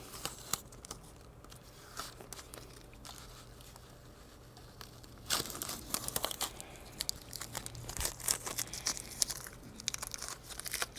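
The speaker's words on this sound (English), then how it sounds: "all I'm going to do is peel this off now" Tamiya masking tape being peeled off an airbrushed, weathered model railroad car, heard as soft crinkling and tearing rustles that grow louder and denser in the second half, close and with no talking.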